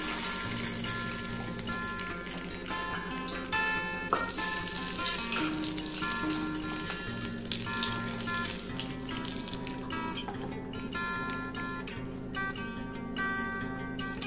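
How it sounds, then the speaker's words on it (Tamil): Mustard seeds and dried chillies tempering in hot oil for a snake gourd and lentil curry: loud, continuous sizzling with scattered crackles and pops, close up, no speech. "இப்போ நம்ம இந்த தாளிப்பு இதெல்லாம் ஊற்றிடலாம்."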